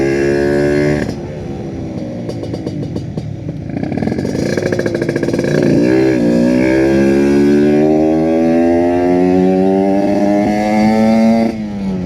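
Kawasaki Ninja RR two-stroke motorcycle engine revving loud and near, pitch sweeping up and down through several throttle blips and then holding a steady high buzzing whine, with no talking.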